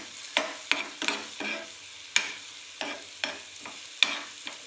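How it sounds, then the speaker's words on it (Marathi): Onion sautés with garlic paste in a pan over low heat, with a soft sizzle under repeated scraping stirs that clack sharply at an irregular rhythm, close and fairly quiet. "कांदा आपला चांगला परतला चालला"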